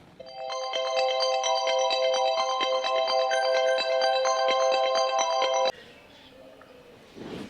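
A phone ringtone plays as a steady, bright electronic melody for about five and a half seconds during a call, then cuts off abruptly into quiet room noise.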